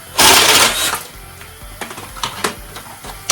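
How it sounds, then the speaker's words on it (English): A drill fitted with a 3/4 inch paddle bit bores into a deer skull, with a loud, close whirring burst followed by several shorter clattering, grinding bites. "Then I take a drill with a 3/4 inch paddle bit"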